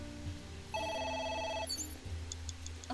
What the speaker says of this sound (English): A phone.